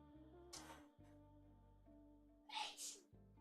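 Two sharp sneezes, the first short and the second louder and double-peaked, break a quiet indoor scene with a steady low hum.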